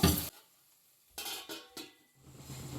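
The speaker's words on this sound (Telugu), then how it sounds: "ముందుగానే ఉడికించి పెట్టుకున్న పీతలను అయితే ఇందులో వేసుకుంటున్నాను. ఒకసారి మంచిగా కలిపేసుకుంటాను." Boiled crabs stirred in a frying pan with a spoon, giving a few scraping, clattering strokes with soft sizzling between them, close and clear with no talking.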